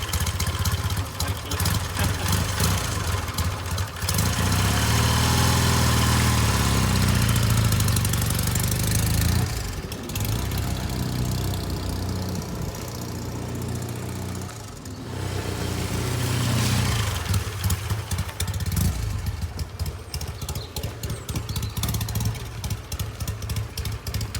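A 1959 BSA A10 Golden Flash motorcycle engine running close by, a loud throbbing idle that swells with revs and eases off again over about twenty seconds.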